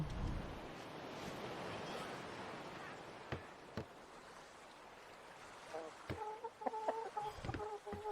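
Hens cluck softly and intermittently in a video game's chicken farm, joined by short chirpy tones near the end, over a faint rushing background with a few sharp clicks.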